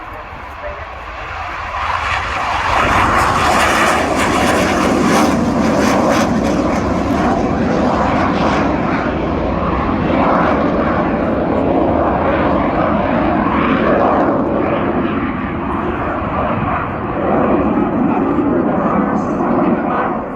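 A fighter jet roaring past during a flying display at the RIAT airshow, a loud sustained engine rumble and whine that swells and holds for most of the clip, with commentary over it.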